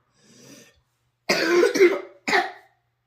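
A child coughs: a faint short cough, a pause, then two loud harsh coughing bursts close by.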